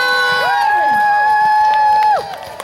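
Loud spectator cheering and whooping for a rider at a ring-jousting tournament, with sustained shouted whoops rising and holding over the crowd before cutting off near the end.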